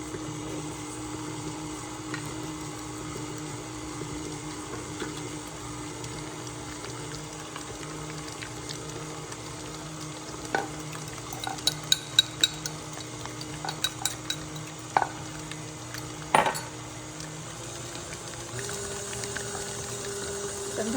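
A stand mixer beats cheesecake batter for peppermint candy-cane mini cheesecakes while liquid is slowly poured in, giving a steady motor hum with a watery churn and a cluster of sharp clinks partway through.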